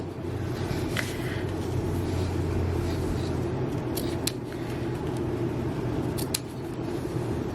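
Scissors trim the small paper ends on a handmade card, a few sharp, quick snips scattered over a steady low background hum, close and fairly faint.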